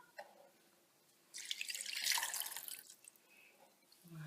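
Liquid drips and trickles through a filter while preparing molecular spherification, a brief hissing patter that starts after a quiet moment, swells for about two seconds, then tapers off close by.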